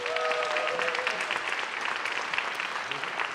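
A conference audience at an opening keynote session claps in a sustained round of applause for sponsors, dense and even throughout, with a brief voice near the start.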